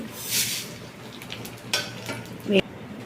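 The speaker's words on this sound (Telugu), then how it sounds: "కడాయిలో నూనె పెట్టి ఎండుమిరపకాయలు," Dried red chillies and fenugreek seeds frying in oil in a kadai, a soft sizzle broken by a few bursts of crackling and a spoon clink near the end, close by.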